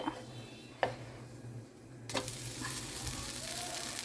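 Dosa batter hitting a hot pan bursts into a loud, steady sizzle partway through, following a quieter stretch with a couple of sharp clicks, with a low hum running underneath.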